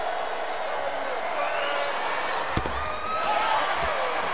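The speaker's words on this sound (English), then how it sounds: "What a great crowd at Rupp Arena" Basketball crowd at Rupp Arena during Kentucky vs Lamar, a steady wash of arena crowd noise with a few sharp ball bounces and faint cheers, heard under quiet background talk.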